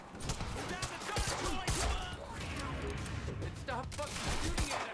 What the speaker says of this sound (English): Stop fucking shooting at us!